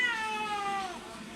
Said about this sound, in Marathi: आमच्याकडे एक मांजर आहे